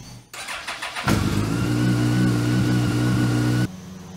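A Yamaha FJR1300 motorcycle engine fires up after a spark plug replacement and settles into a steady, loud, close idle for a few seconds before cutting off abruptly.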